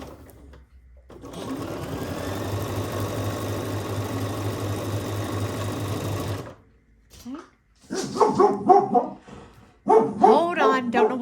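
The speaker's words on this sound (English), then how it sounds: "don't know what she's barking at" A sewing machine hums steadily at first, then stops and a female dog barks indoors several times, loud and close, in short irregular bursts.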